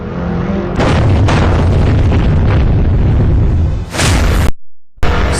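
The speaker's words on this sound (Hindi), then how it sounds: "कश्मीर की घाटी में धमाका।" A loud, sustained boom-like roar from a blast in the Kashmir valley, dense and rumbling for several seconds with brief cut-offs near the end, no speech.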